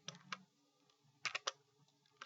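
A package name being typed on a computer keyboard, quiet close keystrokes in small irregular bursts, with a tight cluster of sharper clicks midway and one last tap at the end.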